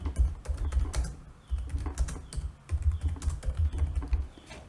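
Keys clatter on a computer keyboard in steady bursts of close typing, with brief pauses between runs of keystrokes while data is entered into an automation designer.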